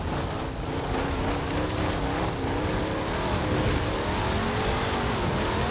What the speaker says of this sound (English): Keeping the engine speed a little bit lower so I can get better traction on the tires.